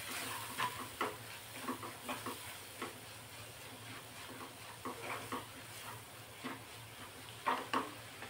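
Gram flour mixture cooks in a pan over a medium flame and is stirred with soft, irregular scrapes over a faint, low sizzle. It sounds quiet and close, with no voices.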